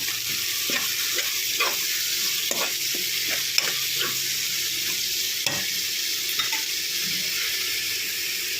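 Chicken biryani is stirred in a pot, a steady frying hiss running underneath while irregular scraping and knocking strokes from the stirring come at an uneven rhythm, close and moderately loud with no talking.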